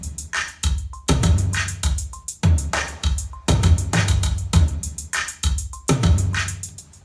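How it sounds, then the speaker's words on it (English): Hi-hats in a produced electronic beat, sent through a stereo delay so each crisp tick trails off in quick echoes. They repeat in a loud, steady rhythm over a low pulse. "So what I'll do is I'll put a little delay on this, a stereo delay, so that it sounds like this."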